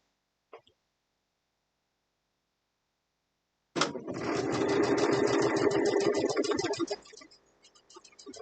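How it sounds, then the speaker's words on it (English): A sewing machine fitted with a candlewicking foot stitches an appliqué mug rug from the back, running in one steady rapid burst of about three seconds after a brief sound and a pause, then stopping. Only faint noises follow. "I'm stitching from the back because I want to see where this hem is"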